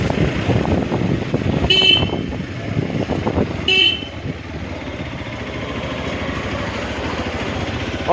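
Two short horn toots from a Hero Xpulse Pro Rally motorcycle sound about two seconds apart over a running engine and rushing wind noise while riding.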